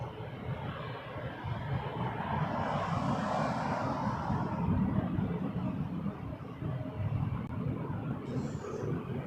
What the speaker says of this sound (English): Porter 543 off to Miami on an Embraer 195.